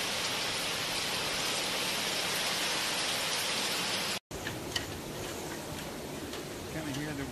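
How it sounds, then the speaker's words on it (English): Hurricane Irma's wind and rain at night in Miami, a loud continuous roar of gusting wind and driving rain, then after a brief cut a rougher wind-buffeted stretch with scattered rain noise and a voice talking faintly. "Kind of hear the wind howling now."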